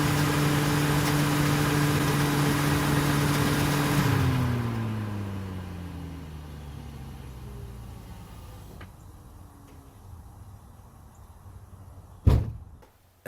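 A car engine idles with its radiator fan running, a steady droning whir with a constant tone, then the fan winds down over a few seconds. A sharp clunk comes near the end.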